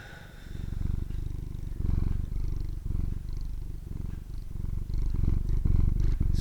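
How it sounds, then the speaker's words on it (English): Close, steady purring from a cat named Banu during a cat yoga session, a continuous rhythmic rumble in pulsing breaths right near the microphone with no talking. "I don't know if he's purring right into the microphone or not"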